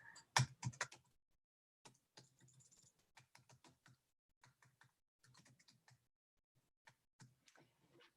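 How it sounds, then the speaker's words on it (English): Keys clatter on a new computer keyboard in quiet, irregular bursts of close, crisp clicks separated by short pauses, with no voices. "I have a new keyboard and I'm blaming my typing errors on a new keyboard"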